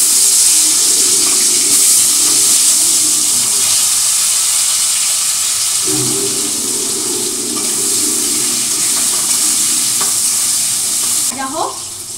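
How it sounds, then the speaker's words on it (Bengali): Potatoes frying in a pan, a loud, steady sizzle with stirring and scraping throughout, close up, and a brief clatter near the end. "এখন দিয়ে দেবো হচ্ছে আলুগুলো ভালো করে ভেজে নিই।"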